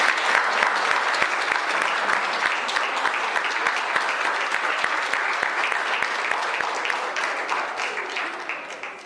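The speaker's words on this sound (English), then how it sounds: "how about a round of applause for all those volunteers?" Sustained applause from a large crowd, many hands clapping densely and steadily for several seconds before tapering slightly.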